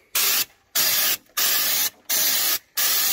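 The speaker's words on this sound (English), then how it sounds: "We're gonna try a little spray on this old bed here." A pressurized spray gun sprays bed liner coating onto a truck bed in five hissing bursts of roughly half a second each, separated by short silences, loud and close.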